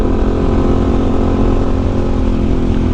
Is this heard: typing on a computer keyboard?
no